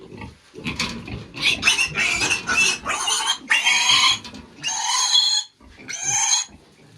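A piglet grunts and squeals during weaning in a run of loud, harsh bursts, close by, with short pauses between them and no voices.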